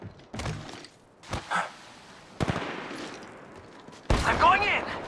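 Bursts of gunfire from a mobile battle-royale shooter, Apex Legends Mobile: four separate sharp volleys with gaps between them, the last one louder and longer, with voices in the mix.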